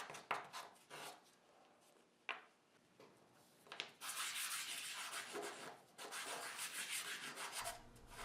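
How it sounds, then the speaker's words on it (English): A few scattered taps and scrapes give way to steady rasping strokes of 220-grit sandpaper rubbing against the edges of wood segments, close up and continuous. "I normally sand the edges with 220 grit sandpaper"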